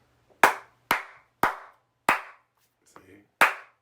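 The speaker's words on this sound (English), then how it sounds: "That was a coach clap there." Cupped-palm hand claps, a coach-style clap with an air pocket between the palms: five sharp, hollow, close claps at roughly half-second intervals with a short pause before the last, plus a faint bump of other noise.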